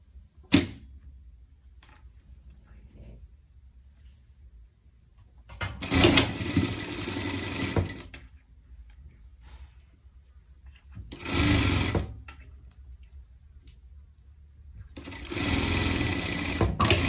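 A sewing machine topstitches elastic onto a pet dress in three loud close bursts of fast rhythmic whirring, separated by quiet pauses with small handling clicks, with no talk.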